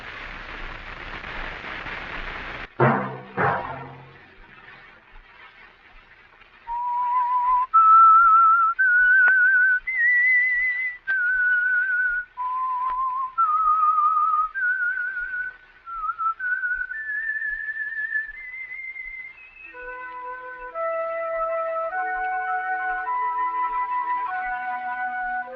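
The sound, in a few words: whistled signature tune of The Whistler radio show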